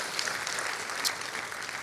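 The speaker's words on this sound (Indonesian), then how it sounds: "beri tepuk tangan yang meriah buat dia" An audience at a church service breaks into steady, moderately distant applause, a dense, even patter of many hands that holds throughout.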